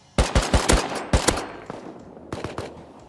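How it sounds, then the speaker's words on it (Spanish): Automated turret in Rust firing several short bursts of rapid gunfire, loud and close, with a pause before a final burst and no talk. "Me ha matado la torreta."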